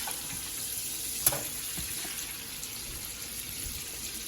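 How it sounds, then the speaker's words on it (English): Steady soft sizzling and crackling of salmon searing in a frying pan, continuous and close, with a single sharp clink near the start. "I'm gonna probably let these sear for another 2 minutes because I really want this to be darker."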